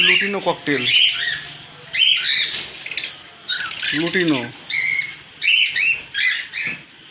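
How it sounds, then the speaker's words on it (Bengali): Loud, close cockatiel chirps and squawks in repeated bursts with short gaps, several birds, including lutino and pied cockatiels, calling over one another at a bird market. "সমস্ত রকমের লুটিনো ককটেল আছে, পাল ককটেল আছে, সমস্ত রকমের ককটেল আছে"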